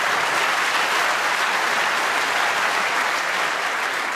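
Steady, dense applause from the crowd at the Crucible during a World Snooker Championship semi-final, loud and sustained across the whole stretch with no talk over it.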